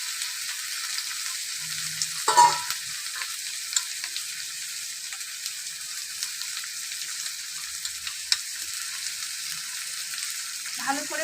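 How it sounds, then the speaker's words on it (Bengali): Spice paste loosened with a splash of water in a pan for cabbage cooked with fish head, giving a continuous soft hiss with a few faint stirring knocks, close and steady, with no talk. "মশলাটা গুলে নেব একদম বাটা মশলার মতন হয়ে গেছে"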